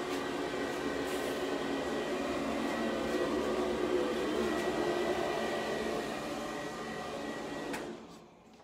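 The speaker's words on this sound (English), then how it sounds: "You have to excuse the noise because the fan goes on." A car workshop fan runs with a steady, loud whooshing hum, a faint click partway through, then winds down near the end.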